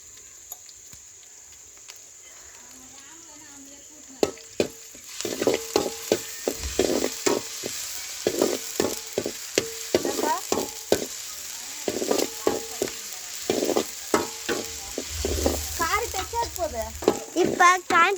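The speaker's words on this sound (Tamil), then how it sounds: "இஞ்சி பூண்டு பேஸ்ட்டு போட்டு நல்லா பச்சை வாசனை போகிற வரைக்கும் நல்லா வதக்கலாம்" Ginger garlic paste and onions are sautéed in a pan for a chicken dish. After a few quiet seconds, a steady sizzle sets in with repeated close spatula taps and scrapes while stirring, over a faint high whine.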